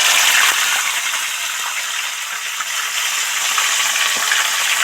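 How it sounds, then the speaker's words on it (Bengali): Katla fish head sizzling as it is slid into hot mustard oil, a loud bright continuous hiss and crackle that holds steady throughout. "এবার তেলের মধ্যে মুড়োটা আস্তে আস্তে ছেড়ে দেব।"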